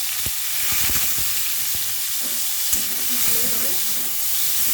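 Thinly sliced bitter gourd, coated in salt and turmeric, fries in hot oil with black cumin seeds. The pan gives a loud, steady sizzle and hiss, with occasional stirring clinks and soft crackles close by.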